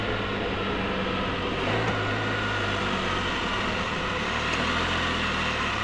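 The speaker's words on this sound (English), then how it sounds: "Come up to a stop here and you'll see that it'll downshift by itself." Can-Am Spyder F3 three-wheeled motorcycle engine idling and winding down steadily as the machine rolls to a stop and shifts down on its own, a continuous low rumble held close throughout with no talk.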